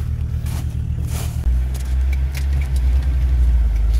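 A UAZ off-road vehicle's engine idles roughly, then gets louder and rumbles heavily as it pulls away, close up, with a few clinks and rustles inside the cabin.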